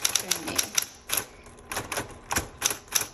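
A 1960s Smith Corona Coronet manual typewriter being typed on, crisp key strikes landing in quick clusters with short pauses between, close and clear.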